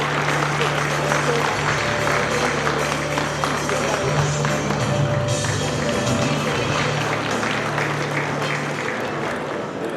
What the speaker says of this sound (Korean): 무대 위로 오실 때 따뜻한 박수로 함께 맞이해 주시기 바랍니다